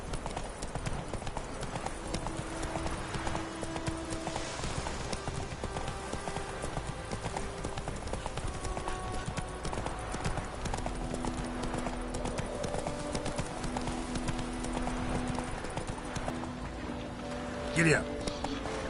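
Hooves of Roach, a horse in The Witcher 3, clip-clop in a steady close rhythm alongside ambient game sound, with a snort or brief noise near the end.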